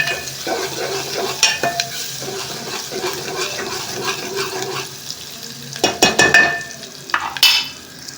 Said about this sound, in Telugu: ఒక చిట్కడు అల్లం అయితే వేసేసుకున్నాము వేసుకొని బాగా కలుపుకున్నాము ఇది ఇంకా వేగాలి